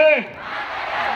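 At a Yuva Sambrama 2025 Dasara stage event in Mysuru, a loud crowd shouts back in unison right after a leader's patriotic call. The call's last word fades into a roaring group response that holds to the end.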